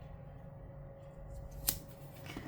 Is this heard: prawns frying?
no